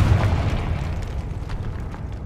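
Booming fiery blast of the Confringo spell in Hogwarts Legacy on PS5, a dense low rumble that swells at the start and rolls on without a break, with no clear separate impacts.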